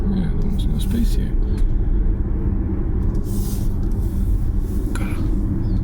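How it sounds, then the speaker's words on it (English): A Jaguar I-Pace electric car drives on the road with a steady low rolling rumble of tyres and cabin noise. People talk over it inside the cabin. "electric car driving is so much fun"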